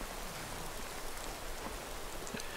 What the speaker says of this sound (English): This time it's raining.